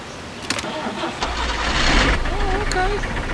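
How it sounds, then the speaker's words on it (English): A two-cylinder car engine in the video game Jalopy cranks and catches, then settles into a low rumble, with someone talking over it. "but that sounds like an engine with 2 cylinders in it."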